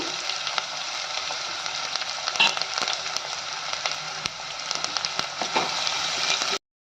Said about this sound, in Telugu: ఉల్లిగడ్డ మంచిగా వేయించుకోవాలి. బ్రౌన్ వచ్చేదాకా.